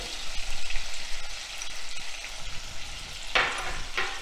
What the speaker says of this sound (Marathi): वांगी परतून घ्यायची। त्यामध्ये लाल तिखट,